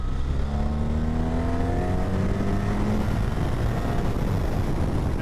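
BMW R1300 RS motorcycle pulling hard in third gear from around 3,000 rpm, a steady loud engine drone with rising harmonics for a few seconds, alone without voices.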